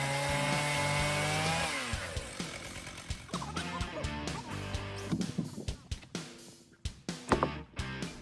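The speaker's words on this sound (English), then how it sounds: "Thanks to the powerful sawing machine and the skillful ability of the workers, it was amazing when they were able to saw an oak log nearly 3 meters in size." A large powerful chainsaw cutting a huge oak log nearly three metres across, the engine revving high then bogging into the wood with irregular snarling bursts, loud and close.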